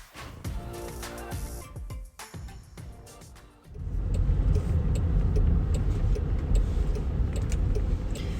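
A new Land Rover Defender drives on an uncleared snowy road, its engine and tyre noise a steady loud rumble after scattered clicks and knocks in the opening seconds, with no talk.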